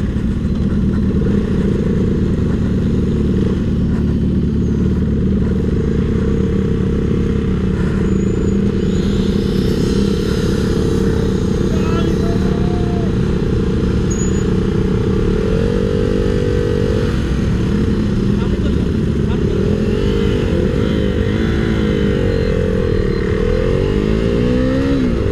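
Superbike engine, a Ducati 959 Panigale or Ninja ZX10R, roaring continuously under load on an open road ride, loud and close for the whole stretch with rising and falling revs and wind rush.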